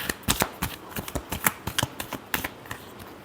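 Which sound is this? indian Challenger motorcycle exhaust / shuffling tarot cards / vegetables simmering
shuffling tarot cards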